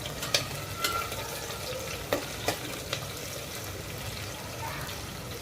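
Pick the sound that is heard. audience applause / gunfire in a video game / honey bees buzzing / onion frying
onion frying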